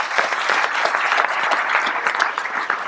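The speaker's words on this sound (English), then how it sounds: "Give them a round of applause" A crowd at the Bird Fair claps warmly for the volunteers, close and steady with many overlapping hands and no talking.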